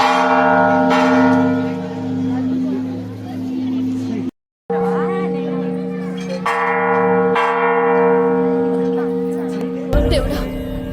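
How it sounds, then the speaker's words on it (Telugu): A large temple bell rings loudly at Swarnagiri temple, its long sustained tones overlapping, with people talking and crowd murmur around it. "ఇక్కడ పెద్ద గంట ఉంది"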